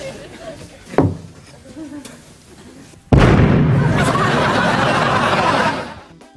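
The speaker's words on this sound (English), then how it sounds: "sticking fireworks into the paint bucket in order to create the ultimate paint bomb" Fireworks stuffed into a paint bucket in an apartment lined with newspaper go off in a sudden loud blast, then a sustained roaring, crackling burst lasting about three seconds; faint chuckles and small pops come before it.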